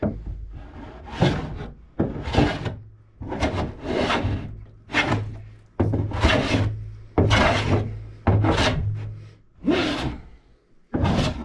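A planer blade being honed toward a razor edge, with a series of about nine loud, rhythmic rasping strokes, each a broad scraping burst lasting roughly a second, separated by brief pauses and with a low hum beneath.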